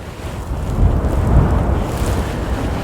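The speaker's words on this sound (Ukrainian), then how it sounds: "Тут вітер постійно." Strong wind on a hilltop near the sea buffets the microphone with a steady, roaring rumble that swells in the middle. No voices are heard.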